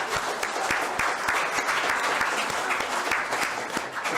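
Sustained audience applause fills the room at a Nevada City mayoral event, dense steady clapping from a crowd with no voices over it.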